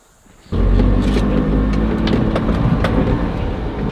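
A farm truck engine starts abruptly and runs with a loud, steady rumble close by, holding a constant idle for several seconds.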